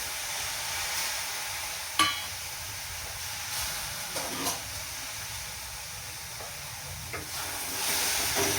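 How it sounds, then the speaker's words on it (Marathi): Cluster beans dry-roasting in a wok over a high flame, a low steady hiss broken by occasional spatula knocks and scrapes. "आता मी ह्याला हाय फ्लेमवरतीच भाजते शेंगा"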